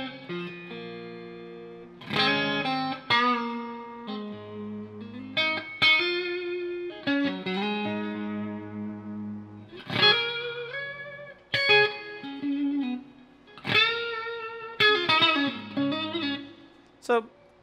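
An electric guitar runs through a Boss RV500 set to plate reverb, playing a melodic line of picked notes and chords with soft decaying tails and brief gaps between phrases.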